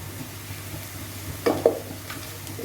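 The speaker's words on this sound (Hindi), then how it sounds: "इसको भी हम अच्छे तरह से फ्राई कर लेंगे प्याज के साथ" Ginger-garlic paste sizzling with onions in a pan over medium flame, a steady soft frying hiss with a couple of brief louder spatters and stirring scrapes partway through.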